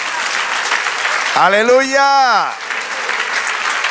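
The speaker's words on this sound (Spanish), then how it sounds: "Dale otro aplauso al Señor." A church congregation applauds in praise of God, a steady wash of clapping that runs the whole time while a voice rises in a loud, sustained exclamation through the middle.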